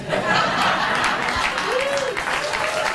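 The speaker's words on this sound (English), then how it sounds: "She always gets applause wherever she goes." A television studio audience applauds on a late-night talk show, a steady wash of clapping mixed with some chuckles and laughter, with a voice speaking over it.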